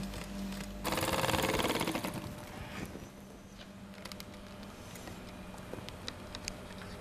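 A sewing machine stitches panels of heavy 12-pound unbleached canvas together for a Thai likay stage backdrop, a loud whirring burst early on, then quieter rattling and scattered clicks in a busy workshop.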